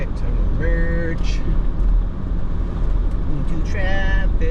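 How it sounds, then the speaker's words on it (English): Houston highway traffic rolls past while merging, a steady road rumble and tire roar with brief tonal whines from passing vehicles, all under someone talking. "I'm gonna merge into traffic."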